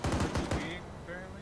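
Rapid automatic gunfire in a military video game, a quick burst of close, loud shots in a steady rhythm that stops after about half a second, with brief faint voice sounds trailing after.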